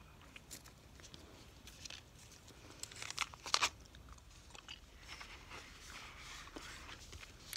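Wrigley's Juicy Fruit gum chewed close up in a quiet room, soft wet smacking and crinkly mouth sounds running steadily throughout at low volume, with a brief crisper crackle partway through.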